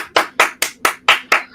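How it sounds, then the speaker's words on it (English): Studio audience clapping for a show host, heard as about seven evenly spaced, sharp bursts of hand claps in a steady rhythm, close and fairly loud with no talk. "a round of applause for the host with the most, Hezekiah"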